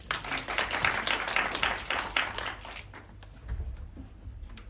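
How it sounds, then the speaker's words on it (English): Audience applause greets Mqiniso Mthembu at a children's dialogue event, moderate clapping for about three seconds that thins and fades, with a small late swell. "Mqiniso Mthembu, a round of applause."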